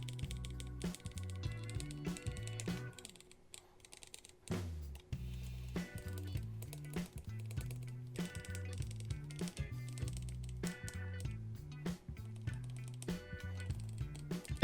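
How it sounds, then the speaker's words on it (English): Keys on a repaired mechanical keyboard, once unresponsive and treated with WD-40, are pressed one after another in quick bursts of clicky taps, close and fairly loud, each key struck several times with short pauses between runs. "Now I test every single key 5 times each to see is it working."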